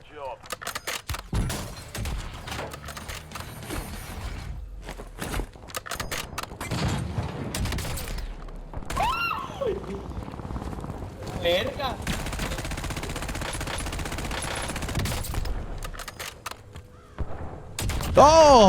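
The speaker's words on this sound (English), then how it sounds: "Yeah, I'm being sniped at." Gunfire in Call of Duty Warzone, including sniper shots: sharp, scattered cracks and bursts ring out across the match, some close and loud, others distant, with talk heard between them.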